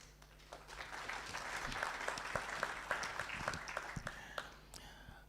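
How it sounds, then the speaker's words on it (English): A church entrepreneurship conference crowd gives a round of applause, heard as soft, distant, dense clapping that swells, holds steady for several seconds, then thins out over a low hum. "A round of applause again."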